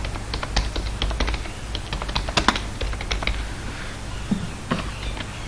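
Rapid typing on a computer keyboard while a registration data web form is built, a steady close run of crisp key clicks with small pauses, no voice.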